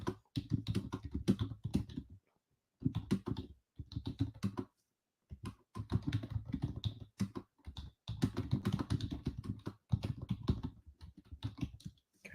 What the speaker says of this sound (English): I'm constantly typing